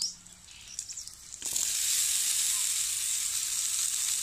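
Boiled broad beans drop into a pan of oil with dried red chilies, bursting into a loud, continuous bright sizzle after a quieter start with light clinks.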